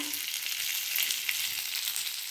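Cumin seeds, with a little ground cumin paste, fry in hot oil for a Bengali fish curry, giving a steady, dense sizzle that crackles continuously and close up, with no voices.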